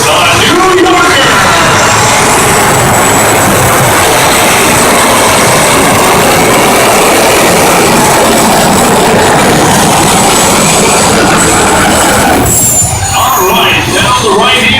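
A modified tractor at a fair tractor pull roars at full RPM, loud and sustained with a high whine, then cuts off sharply near the end; an announcer's voice runs underneath.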